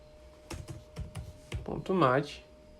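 Keystrokes on a computer keyboard as a load command is typed into Octave, a few quick taps followed by a firmer press of the enter key, close and clear, with a brief voice near the end.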